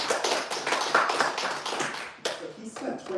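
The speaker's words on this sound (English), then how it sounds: "let's hear a round of applause for him" A round of applause for the founder and CEO of Masterpiece at a tech talk event, dense clapping from the crowd that thins out toward the end, with voices audible underneath.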